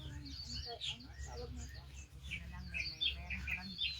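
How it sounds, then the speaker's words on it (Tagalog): A bird at a campsite in Sai Kung, Hong Kong gives a series of high, quick chirps and short tweets throughout, fairly faint over a low background hum, while a person speaks briefly nearby. "Ang ibon."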